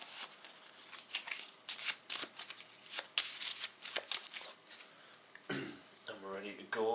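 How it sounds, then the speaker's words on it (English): A discard pile of Genestealer cards from the Space Hulk Death Angel card game gets a quick shuffle, with close crisp riffling bursts and snaps repeating for several seconds before a voice briefly sounds near the end. "so we'll give them a quick shuffle."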